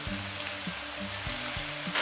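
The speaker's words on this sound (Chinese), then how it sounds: "煎排骨时我们用中火来给它煎制，那样可以快速的给它锁住肉汁" Pork ribs pan-frying in oil over medium heat, a steady close sizzle with repeated low knocks and scrapes of a utensil against the pan.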